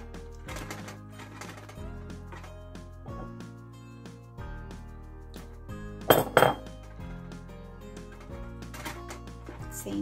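A spoon stirs butter into tomato sauce in a pot, clinking lightly and repeatedly against the metal, with a couple of louder knocks midway, over steady background music.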